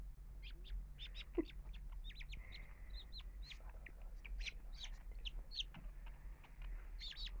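A weak, sickly baby chick peeps in a run of thin, high chirps, close and fairly soft over a low steady background hum, with no voices.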